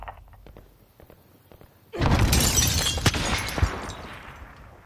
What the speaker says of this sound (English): Is that you breaking glass?